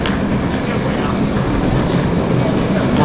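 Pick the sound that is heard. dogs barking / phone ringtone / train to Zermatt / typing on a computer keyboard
train to Zermatt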